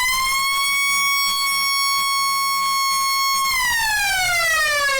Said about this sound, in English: That's the final siren here at the Eastern Oval.